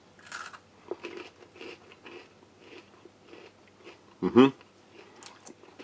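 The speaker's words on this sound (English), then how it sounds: "Still crispy, still crunchy. A nice cheddar centre." Cheese-filled crackers from a US Army hot-weather ration crunch under the teeth, soft repeated crispy bites and chewing close to the mic, with one louder sharp crunch near the end.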